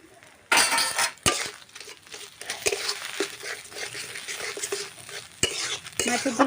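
Fish roe fries in a pan for a mango chutney, with a busy sizzle under repeated scraping and clinking of a utensil stirring and breaking it up, close and fairly loud.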